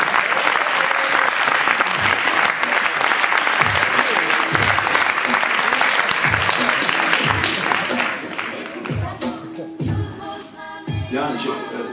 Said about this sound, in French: je vous demande d'applaudir Jared Newson, joueur de basket et aussi chanteur